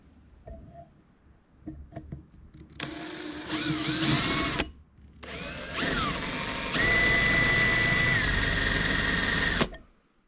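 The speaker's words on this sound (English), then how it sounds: "I'm gonna take a drill and open that up a little bit" A power drill whirs loudly in long bursts, grinding into a chrome motorcycle fork tube with a high whine, after a few faint clicks and taps.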